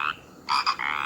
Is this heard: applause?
no